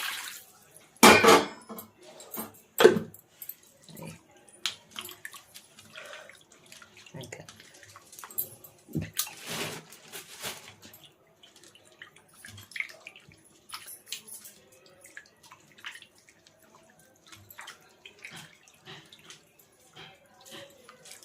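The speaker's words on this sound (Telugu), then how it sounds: "చేపలకు నీళ్ళు ఎక్కువ పడతాయి కడగడానికి" Water splashes and sloshes in a container as fish is rinsed by hand, with irregular bursts, drips and faint clinks, close by and moderately quiet.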